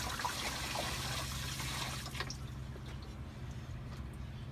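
Water pours and trickles steadily into the reservoir of a Chauvet Nimbus dry ice fog machine, a close, continuous splashing fill that thins to drips near the end.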